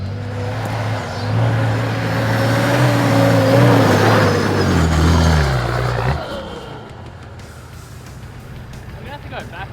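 A Nissan GQ Patrol 4WD engine drones loudly while driving, its pitch climbing under load, then dropping abruptly as the gear changes, leaving a quieter idle-like rumble afterward.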